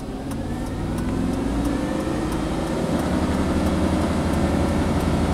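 A GM truck engine with a misfire is held at high revs, giving a loud, sustained drone with a rough, faintly pulsing roughness throughout and no voices over it.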